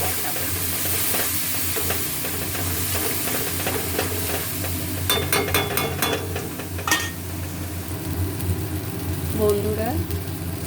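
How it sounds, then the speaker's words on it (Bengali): Spices cooking in oil in a pan with salt and turmeric, a steady close sizzle and frying hiss running throughout, with scattered stirring clinks and scrapes and a brief faint voice near the end. "মশলা খুব ভালোভাবে কষা হয়েছে দেখুন তেল ছেড়ে এসেছে"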